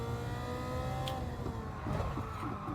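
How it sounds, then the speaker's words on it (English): A Caterham's engine drones steadily in Gran Turismo 7, a sustained close-up engine note with shifting revs throughout. "I just love the sound of this car."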